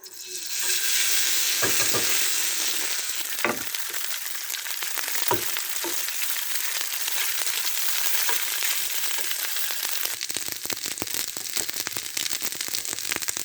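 Cooked rice fries in a hot pan with a steady, loud sizzle throughout, broken by occasional scraping stir strokes, and the crackle grows busier near the end.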